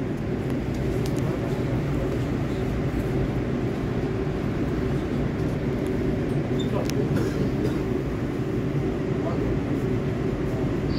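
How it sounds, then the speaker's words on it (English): Manhattan-bound R142A subway train running on the IRT Lexington Avenue 4 line, a steady, loud rolling rumble and rail roar that continues unbroken throughout. "This is a Manhattan-bound 4 train."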